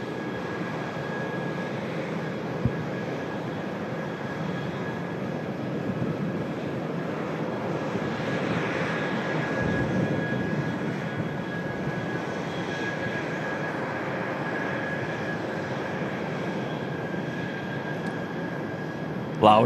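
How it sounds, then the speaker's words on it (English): The CFM56 engines of a Jet2 Boeing 737 run in the engine test bay at Manchester Airport, making a steady, loud, broadband roar with a faint sustained whine that holds for the whole stretch without letting up. "Loud noises from the CF-56s on that Jet 2 737 in the test bay."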